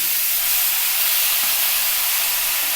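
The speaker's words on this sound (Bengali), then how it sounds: "এই শাকটাও আমি দিয়ে দিচ্ছি" Fenugreek greens hit a hot pan of fried eggplant in a spicy curry and set off a loud, steady sizzling hiss. The hiss holds close and unbroken, with no voices.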